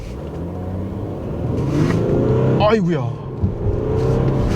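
An Audi A7 50 TDI quattro with a V6 turbo diesel accelerating from inside the cabin, the engine rumble building steadily under a voice, with a short exclamation in the middle.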